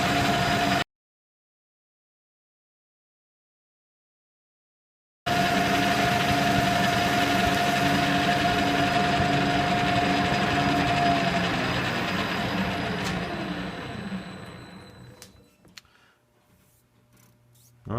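A lathe takes a rough cut at a feed of 10.5 thousandths per revolution while turning a Troy-Bilt rototiller shaft, a steady loud machining whine with a tonal ring after a brief gap, fading out toward the end.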